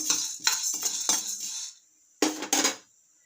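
Sorghum grains roasting in a pan while being stirred, a bright rattling scrape of grains and utensil against metal in quick strokes, pausing briefly before two more short scraping bursts.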